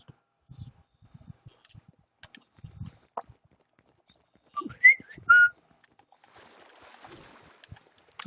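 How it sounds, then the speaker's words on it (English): A person whistles a couple of short, bright notes amid soft scattered clicks and faint background noise, quiet and alone with no talk. "That's me whistling."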